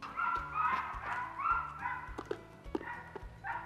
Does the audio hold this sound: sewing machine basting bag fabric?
no